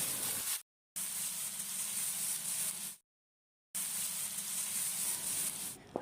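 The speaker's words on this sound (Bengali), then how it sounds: "আলু গাজর সব আমি কষিয়ে নিচ্ছি" Potatoes and carrots with turmeric, red chilli and cumin powder frying in a pan for a spinach dish, a steady bright sizzle broken by two short silent gaps, with no talk.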